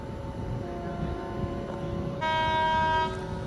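The Tirupati–Hyderabad special train departs, a steady rolling rumble broken by a loud horn blast lasting about a second near the end.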